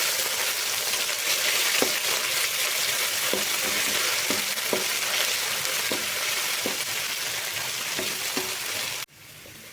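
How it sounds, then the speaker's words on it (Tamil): Ginger garlic paste frying with onions in a pan for spicy chicken pepper fry, a continuous close sizzle with regular light spatula taps, cutting off abruptly near the end. "இஞ்சி பூண்டோட பச்சை வாசம் போகிற அளவுக்கு வணக்கிக்கோங்க."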